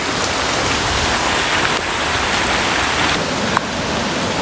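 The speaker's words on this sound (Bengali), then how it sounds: "আহ বৃষ্টি বৃষ্টি কাকে বলে ঝুম বৃষ্টি ভেজা রাস্তায় হাঁটছি" A heavy, continuous downpour falls on a wet street, a dense, even roar of rain close around the listener, with one brief knock near the end and no voices.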